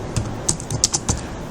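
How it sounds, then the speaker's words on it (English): Computer keyboard typing, a short run of about six light, quick keystrokes close by with small gaps between them, no talking. "Just type the name of the workbook"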